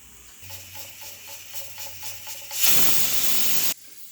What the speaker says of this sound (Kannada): ಕುಕ್ಕರ್ 2 ಸಲ ಕೂಗಿದೆ.